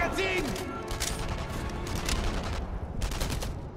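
Sustained gunfire in the video game Enemy Front, with dense rapid bursts of shots and booms continuing throughout, loud and close, mixed with game sound effects and players talking over it.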